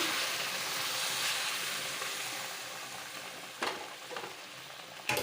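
Sugar syrup stirred into a hot mixture after the stove is switched off gives a steady bubbling, sizzling hiss, with a few louder scraping stirs near the end.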